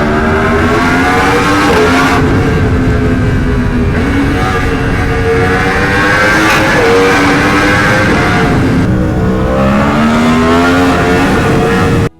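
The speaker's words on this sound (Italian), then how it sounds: "Sorpasso pazzo della panda!" A small Fiat Panda's engine strains and revs loudly and continuously, pitch rising and falling through gear changes as it overtakes in Naples traffic, heard close up.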